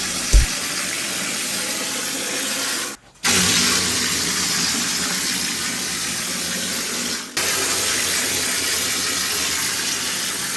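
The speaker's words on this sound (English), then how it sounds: "Our cement sprayer shines when it comes to filling in deep pocket holes because it sprays the cement deep into the" A cement sprayer blasts cement into deep pocket holes in a basement wall, giving a loud, continuous rushing hiss that cuts out briefly twice before starting again.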